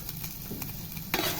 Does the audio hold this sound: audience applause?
no